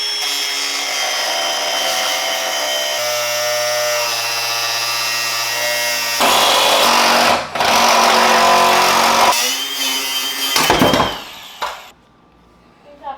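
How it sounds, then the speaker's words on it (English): A Hart Tools power saw or angle grinder cuts through a car exhaust pipe, loud and continuous for about twelve seconds with shifting pitch as the blade bites, then cuts off abruptly near the end. "Got my Sawzall and my angle grinder from Hart Tools."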